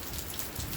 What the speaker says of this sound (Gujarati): સારા ગામમાં ધોધમાર વરસાદ વરે છે